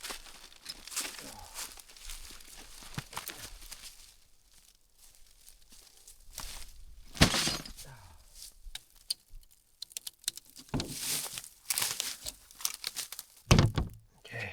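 Glass is broken and shifted inside a heavy bin, giving scattered crunches, clinks and rustling thuds in irregular bursts at moderate to faint level, with quieter gaps between.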